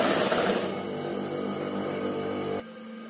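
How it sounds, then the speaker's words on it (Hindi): A sewing machine runs a steady stitch down folded fabric for shirt neck piping, a continuous close whir that drops sharply quieter near the end. "अब इसकी मैं सिलाई लगाते हुए नीचे तक"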